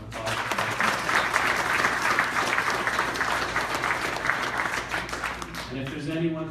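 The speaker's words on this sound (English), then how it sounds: "So let's give Dawn a big round of applause." Sustained applause from an audience at a December 2016 CCWAB completion ceremony, a steady dense roar of clapping that fades near the end as a voice begins speaking.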